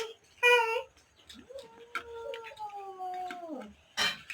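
A cat gives a drawn-out, wavering meow at close range, with brief bursts of a person's voice before and after it.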